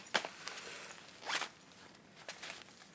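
The zipper on a bat-shaped bag is pulled open in several short quick rasping strokes, close and fairly quiet, separated by brief pauses with no talk.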